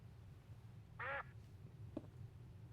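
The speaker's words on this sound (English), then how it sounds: "there's the quack command that just makes duck noises." A single short duck quack triggered by a Twitch chat quack command during a Minecraft Cobblemon stream, heard once near the middle over a steady low background hum, with a faint click shortly after.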